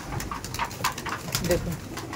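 A large flock of some forty to fifty Abluk pigeons in a loft coos and rustles continuously, with soft overlapping calls and a person speaking over them.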